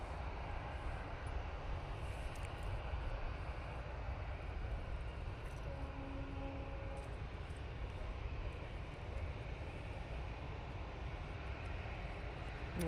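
An airliner landing at Manchester Airport, heard as a steady, broad engine roar from a distance that holds evenly throughout with no sharp peaks.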